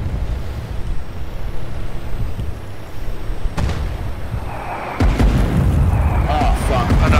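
Artillery strike explosions in the war game Foxhole: a sharp boom partway through, then a heavier blast that leaves a loud, rumbling roar over steady battlefield noise.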